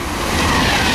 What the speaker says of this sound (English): Virgin Pendolino.